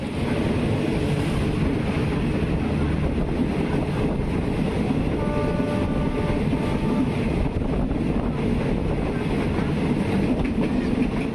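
A train passes another train at a junction on the Thai railway line toward Sai Yok, heard from on board. A steady loud rumble and clickety-clack of wheels on rail run throughout, with wind noise and no talk.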